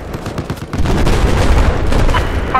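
Flashbang grenades in Battlefield 4 go off amid a dense, loud run of gunfire bursts and booms, building into sustained heavy rumbling blasts.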